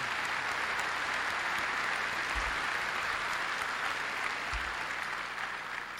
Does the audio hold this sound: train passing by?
no